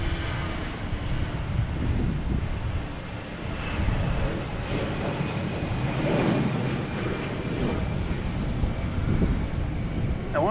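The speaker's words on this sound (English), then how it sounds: "We got American Airlines taking off." An American Airlines jet taking off at Boston Logan Airport: a broad, steady engine roar sustained throughout, heard from a distance with some wind buffeting the microphone and no talking.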